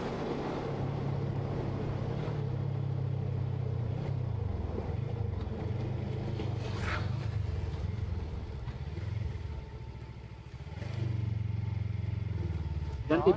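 A group of motorcycles rides along a mountain road between Bandung, Sumedang and Majalengka, engines droning steadily with rising and falling revs, close and continuous throughout.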